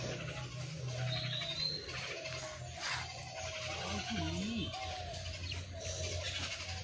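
A myna bird calls outdoors with a few short, twisting warbled notes, moderately close, over steady background noise with faint voices nearby.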